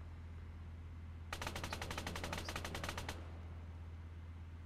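Rapid automatic gunfire rattles from a video game for about two seconds over a low steady hum, a burst of evenly spaced shots heard at a moderate distance.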